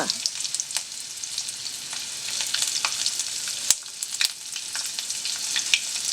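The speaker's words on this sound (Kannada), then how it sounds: "ಬೆಳ್ಳುಳ್ಳಿ ಒಳ್ಳೆ ಕಾಯಬೇಕು ಕಾಯುವಾಗ ಒಗ್ಗರಣೆಗೆ ಹಾಕೋದು" Garlic sizzles steadily in hot oil as tempering for a colocasia leaf curry, a constant close hiss dotted with sharp crackles and pops.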